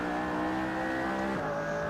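McLaren P1 racing at Silverstone in Assetto Corsa, with a loud sustained engine note that holds steady and then shifts pitch as the gear changes near the end, alone without talk.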